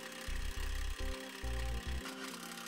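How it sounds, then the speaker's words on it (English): Self-tapping screws are driven into the bumper bracket of a 2012 Ford van, heard as four short bursts of a low driver motor separated by brief pauses, fairly quiet and close. "we can then go ahead and secure the 7-pole bracket directly to the bottom of the bumper using some self-tapping"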